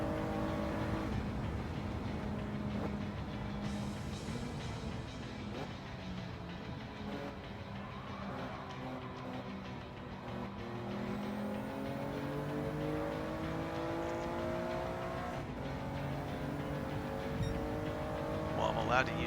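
A race car engine in the video game Gran Turismo 7 drones steadily and fairly quietly, its pitch climbing and dropping through gear changes under a continuous mechanical hum.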